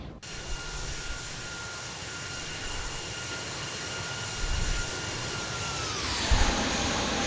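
Simulated Airbus A320 jet engines roar steadily at takeoff thrust through the climb in the X-Plane flight simulator, with a constant broadband rush and a high whine that drops in pitch near the end as thrust comes back.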